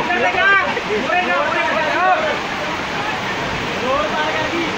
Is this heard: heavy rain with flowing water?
yes